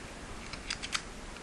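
Zigzag scissors are handled with a few faint, quick metallic clicks and snips close by, scattered over a quiet background.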